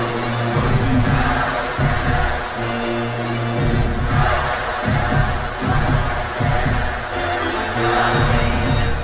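A college football stadium crowd at a UNC at Florida game roars loudly and continuously around a third-down stop, with the swelling cheers rising and falling in waves.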